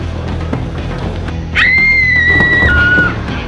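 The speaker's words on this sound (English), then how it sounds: "Why is she screaming?" A girl screams from behind a locked door during a home Nerf war game: one loud, sustained, high-pitched cry lasting about a second and a half, rising suddenly over quiet background noise, then dipping slightly lower before it stops.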